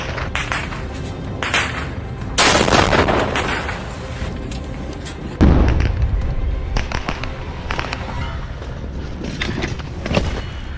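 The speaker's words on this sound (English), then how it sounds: "Gunfire erupts from the windows" Street fighting in Bakhmut, Ukraine, with gunfire erupting from windows over an exposed street: loud, dense bursts of rifle shots and sharp cracks, some close and booming, others scattered and rattling, continuing irregularly throughout.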